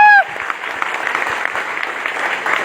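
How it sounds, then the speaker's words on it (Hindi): An audience claps steadily and fairly loudly at a network marketing gathering in Vishnugarh, the applause continuing evenly after a brief tone at the start. "उनके लिए जोरदार तालियां"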